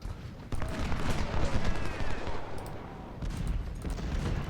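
Artillery and musket fire from Ultimate General: Civil War at the Battle of Cold Harbor, with smoothbore cannons booming amid a steady crackle of distant volleys, a dense rolling barrage throughout.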